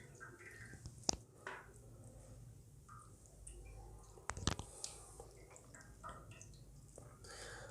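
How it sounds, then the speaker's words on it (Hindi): Homemade mozzarella cheese squeezed by hand to press out its water, giving faint, soft squishing and dripping with a few sharp clicks, heard close and quiet. "इस तरह आपने पानी इसका निचोड़ लेना।"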